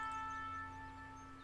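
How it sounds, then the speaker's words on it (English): A lunch bell in the video game Everlasting Summer rings as a steady, sustained tone that fades slightly, heard alone without voices. "the lunch bell sound came"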